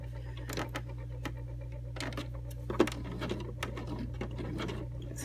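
Sewing machine slowly stitching a dough proofing bowl cover while the fabric is hand-fed around a pin: a low motor hum with soft, uneven needle strokes and light rattling, close and quiet.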